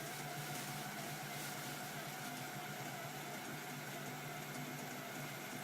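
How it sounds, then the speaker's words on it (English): Centrifuge spinning a blood sample to separate platelet-rich plasma, giving a steady, even, quiet whir with a constant hum and no variation across the whole stretch. "Now the whole process to centrifuge it takes about 17 minutes."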